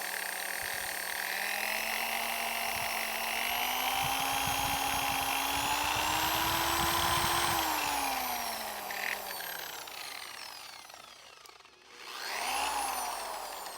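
A Barjack 21mm dual action polisher runs at second speed with a steady, fairly quiet motor whine. It is continuous and alone, briefly dipping and wavering near the end before settling again.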